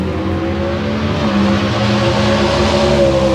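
A Puma GTX 440 engine runs loud and close at the California Hot Rod Reunion at Famoso Dragstrip, holding a steady, throaty rev that swells slightly toward the end.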